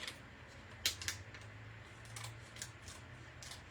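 Scissors cutting a piece of paper for a mixed media memorial craft, giving a few quiet snipping crunches close by, the sharpest pair near the start, then fainter cuts against a low hum.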